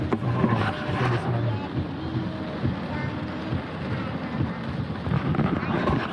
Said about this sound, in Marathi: मस्त असा पाऊस सुरू झाला